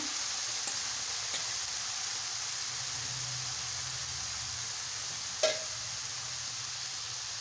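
Potatoes and eggplant frying with garlic and green chili in a farm kitchen, a soft steady sizzle throughout with a couple of sharp clicks of a utensil, no voices.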